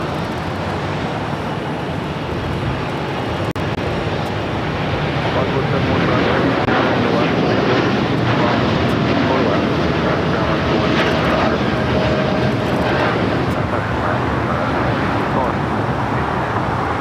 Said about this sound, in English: Next takeoff, Air Tahiti Nui heading to Paris.